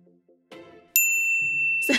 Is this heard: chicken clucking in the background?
no